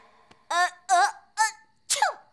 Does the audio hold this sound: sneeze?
yes